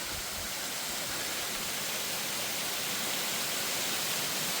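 Machine Falls, the largest waterfall in the park, seen in mid December: a steady, dense roar of falling water, constant and enveloping from start to finish with no voices.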